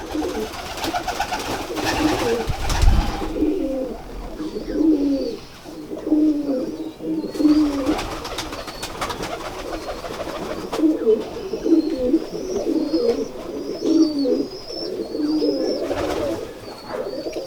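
Sialkoti pigeons on a rooftop coo repeatedly in soft, rolling bursts, close by, with occasional louder rustles and faint chirps in the background.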